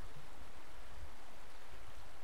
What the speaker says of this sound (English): And down below I can hear the stream